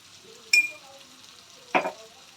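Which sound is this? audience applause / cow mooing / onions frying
onions frying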